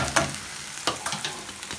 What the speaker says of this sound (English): I've just put a little bit of butter in there just to get this beef cooked through.